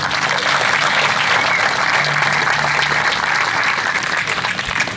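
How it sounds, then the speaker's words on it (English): Dense, continuous applause fills a hall during a city's State of the City address, loud and close, holding steady for the whole stretch. "Give them a round of applause."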